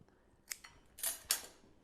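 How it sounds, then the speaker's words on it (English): Quiet scissor snips cut through flower stems while a cocktail is being garnished, a few brief sharp crunches close by in an otherwise hushed room. "So I'll take my scissors here."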